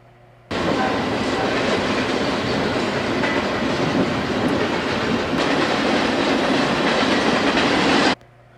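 A freight train loaded with small 20-foot trailers rolls steadily past, its loud, continuous rumble and clattering wheels holding nearly constant before cutting off abruptly.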